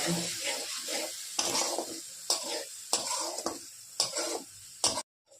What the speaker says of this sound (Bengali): এখন ভালো মতো কষিয়ে নেব।